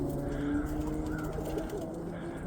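Roller pigeons coo in a loft, several birds murmuring in steady overlapping low calls, close and continuous with no voices over them.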